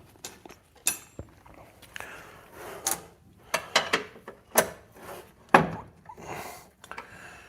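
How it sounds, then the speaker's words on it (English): Wrench tightening an 18 mm bolt on the front suspension control arm of a 2013 Kia Optima, giving irregular metallic clicks and ratcheting bursts with short pauses between strokes, close up. "it will take me forever to tighten it by wrenching"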